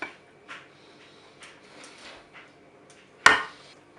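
Compote spooned from a mixing container into a salad bowl in a home kitchen: a few soft utensil clinks and knocks, then one sharp, louder clatter near the end, with quiet gaps between.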